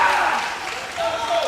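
A crowd at a high-school swimming meet cheers and applauds as a swimmer touches the wall, a brief dense wash of clapping and shouting in an echoing pool hall.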